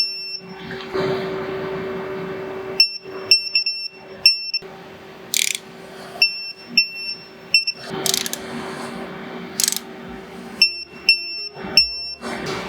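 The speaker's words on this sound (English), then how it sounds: "I do have my torque wrench set to 40 foot-pounds" A torque wrench tightens Harley Sportster shock bolts to 40 foot-pounds, giving repeated quick ratcheting clicks in short bursts, close and crisp, while a high steady electronic beep pulses through the background.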